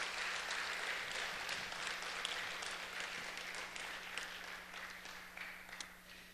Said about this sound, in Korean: 우리 이번에는 우리 두 팀을 또 격려하고 축복하는 박수를 한번 드리도록 하겠습니다